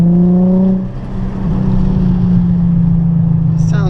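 A Nissan 350Z's engine drones loud and close while driving through canyon roads, a low steady hum with a brief dip in revs before settling back into an even cruise.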